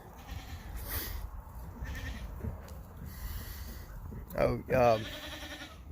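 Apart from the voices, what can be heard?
goats bleating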